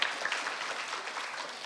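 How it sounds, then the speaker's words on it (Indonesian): Short burst of audience clapping at a gathering, a dense, even patter of many hands at moderate level with no voices over it. "Boleh tepuk tangan buat Mas Sony."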